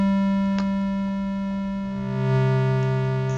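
A synthesizer holds a steady, bright, buzzy tone rich in harmonics, swelling slightly with its envelope and shifting pitch a little toward the end, alone and clean.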